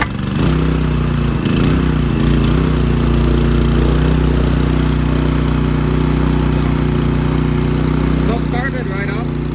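A cold Honda GX100 small engine with a repaired broken casting, started up and running at a steady, loud idle, close by with a constant buzzing drone.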